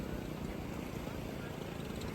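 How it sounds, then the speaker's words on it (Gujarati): A helicopter drones overhead as a continuous low, rumbling roar that stays steady throughout, with faint voices mixed in. "હેલિકોપ્ટર નીકળ્યું છે મસ્ત જો હેલિકોપ્ટર જો નજીક જ છે"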